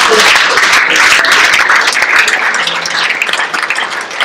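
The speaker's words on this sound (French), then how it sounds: "Acclame tout le monde." A church congregation breaks into loud, sustained applause, dense clapping filling the space without a break, with a faint murmur of voices mixed in.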